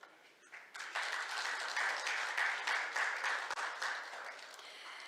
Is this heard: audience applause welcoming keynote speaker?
yes